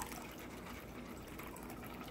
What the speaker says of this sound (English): you're going to pour some hot water, not boiling hot, just kind of lukewarm water